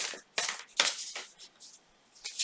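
A deck of playing cards is shuffled in a few quick, crisp riffling bursts with short pauses between them. The sound is quiet and close, with no talk.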